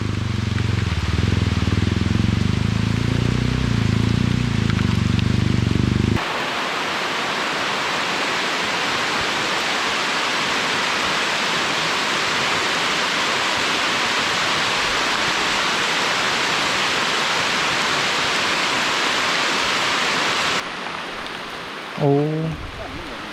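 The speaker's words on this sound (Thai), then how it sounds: "ฝนตกแล้วครับตอนนี้" Steady heavy rain pours down during an enduro motorbike ride near Chiang Mai, a dense even hiss filling most of the stretch, with muffled rumble and voices briefly at the start and end.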